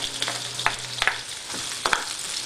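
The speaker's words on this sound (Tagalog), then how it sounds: "sauteing the garlic" Garlic sautés in a hot pan for beef caldereta, a steady close sizzle broken by several sharp scraping stir strokes at irregular intervals, with no talking.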